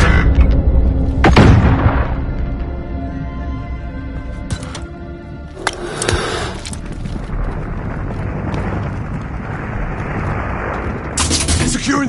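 Video game battle with airstrike explosions and gunfire, heavy booms and sharp cracks erupting repeatedly over a dense, loud rumble of combat, close and intense throughout.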